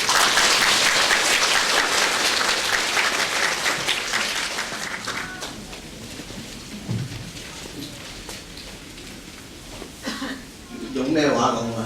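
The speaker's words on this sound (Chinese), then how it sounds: "大家鼓掌欢迎" An audience at a university Buddhist society lecture claps loudly to welcome a speaker, the dense applause fading after about five seconds as voices talk over the thinning clapping.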